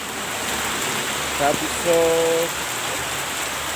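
Steady rain pours beside a roadside shop during a motorbike ride in Assam. It makes a dense, even hiss throughout, with a brief voice heard once.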